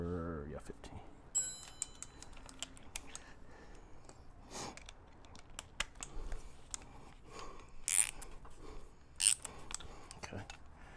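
A wrench turning a 15 mm nut during a big brake upgrade on an LS-swapped G-body car, heard as irregular ratcheting clicks and metallic taps, close and fairly quiet.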